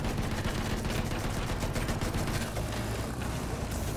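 Dense, continuous automatic gunfire from a machine gun rattles through a Battlefield 1 video game battle, loud and close, with overlapping shots forming a steady wall of noise for the whole stretch.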